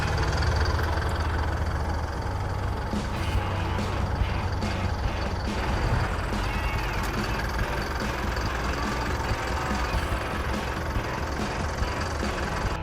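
An Isuzu NLR 130-horsepower steel-bed pickup truck engine idles steadily, a low continuous rumble with a faint knocking texture, close by and unchanging throughout.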